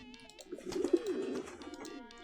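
A pigeon-like bird in a Homestuck video game gives a soft, low cooing call, a single mournful coo swelling and fading over a couple of seconds, fairly quiet and alone.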